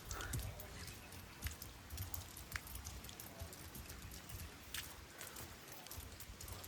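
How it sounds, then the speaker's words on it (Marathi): Continuous rain falls steadily around an outdoor hill fort, a soft constant patter with scattered drips and splashes, quiet and even throughout. "पाऊस कंटिन्यू चालू आहे"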